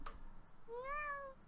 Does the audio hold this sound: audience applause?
no